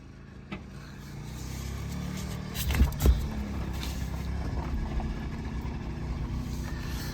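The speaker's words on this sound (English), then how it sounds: "You probably wouldn't think a two-stroke golf cart would tow a Bronco also, but apparently it does" A two-stroke golf cart idles and pulls steadily while towing a Ford Bronco II with a failed fuel pump, a continuous low engine drone with a couple of brief louder surges early on.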